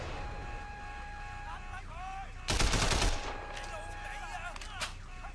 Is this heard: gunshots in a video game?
yes